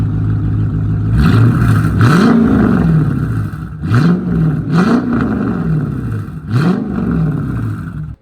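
A Dodge Challenger R/T with longtube headers revs in four sharp throttle blips, each a loud rising and falling roar that settles back to a deep, rumbling idle between pulls, close up and without talk.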